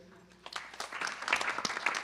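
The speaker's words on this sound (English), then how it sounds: "I want you to give a round of applause to this young man" An audience at a Friday evening Devi Poojan gathering breaks into applause for a young man, starting faint and building into scattered, fairly quiet clapping over two seconds.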